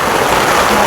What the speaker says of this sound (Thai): มันฝนตกแบบนี้